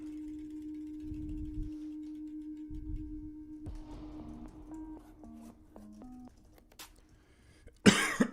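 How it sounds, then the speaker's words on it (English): A person coughs twice, quietly and close by, over a steady electronic hum, followed by soft chiming tones and a short burst of noise at the end. "Still a little cough."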